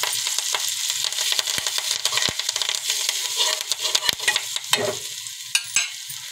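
Green chilies and curry leaves fry in hot oil for buttermilk kadhi, a dense close crackling sizzle with sharp spattering pops and occasional stirring scrapes, steady throughout.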